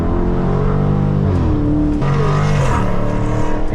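A Dodge SRT Scat Pack V8 revs loudly from inside the car while driving, the engine note climbing and falling through several throttle blips over a constant road roar.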